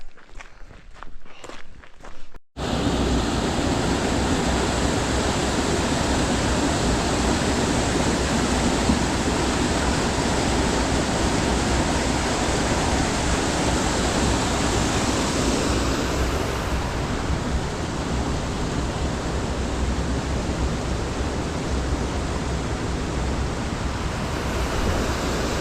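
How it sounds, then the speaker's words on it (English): An impressive waterfall on the Appalachian Trail roars in a dense, unbroken rush of noise that begins abruptly after a few seconds of quieter shuffling and stays loud and steady to the end. "Pretty impressive waterfall"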